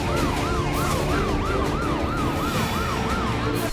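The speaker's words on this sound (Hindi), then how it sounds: "एक के बाद एक एम्बुलेंस घायलों को अस्पताल पहुंचा रही है।" Ambulance sirens wail as the injured are rushed to hospital in Israel, a loud rising-and-falling siren repeating rapidly over continuous street and traffic noise.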